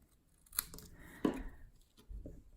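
Scissors snip paper while a Christmas tag is trimmed by hand, with a few quiet, close cuts and light rustling in an otherwise calm room.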